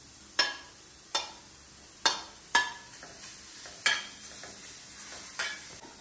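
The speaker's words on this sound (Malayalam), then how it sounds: "ബീട്രൂട്ടിനെ നല്ലോണം മുരിഞ്ഞ് വരുന്ന പോലെ വറുത്തെടുക്കണം" Beetroot roasting in a hot pan on a gas stove, a soft sizzle punctuated by about seven sharp scraping clacks of a spoon stirring at irregular intervals, close, no talk.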